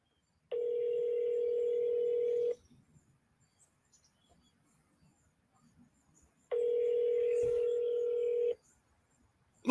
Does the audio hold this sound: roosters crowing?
no